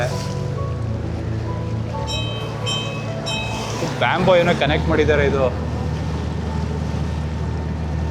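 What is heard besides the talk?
boat approaching on Vembanad lake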